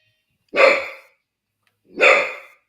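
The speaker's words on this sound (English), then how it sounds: "My dog's barking." A dog barks twice, each a full, loud single woof spaced about a second and a half apart, close by and clear against otherwise silent surroundings.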